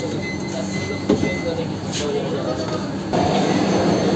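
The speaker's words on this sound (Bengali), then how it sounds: "ট্রেন খড়গপুর স্টেশনে ঢুকেছে। মিনিট দুয়েক দাঁড়াবে, দিয়ে আবার এক্ষুনি ছেড়ে দেবে।" A train pulling into Kharagpur station, heard from inside the coach as a steady low rumble with faint wheel and rail noise, and voices talking in the carriage.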